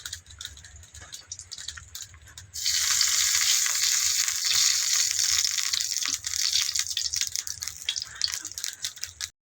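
Oil poured into a hot wok for pangas fish, breaking into a loud, steady crackling sizzle with scraping and rattling on top, close by and with no talk.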